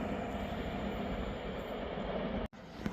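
A delayed LNER train from London King's Cross to Aberdeen passes through Ladybank station with a steady, rolling rumble and hiss of wheels on track. The noise is heard alone, broken by a brief dropout near the end.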